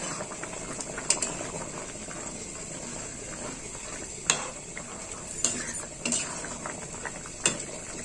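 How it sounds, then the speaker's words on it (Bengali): Meat simmering in a pot, a steady low bubbling with occasional sharp clinks of utensil against metal, while a voice talks over it. "এবার একটু ফুটবে। 1 ফুট ফুটলে মাংসটা আমি নামিয়ে নেব।"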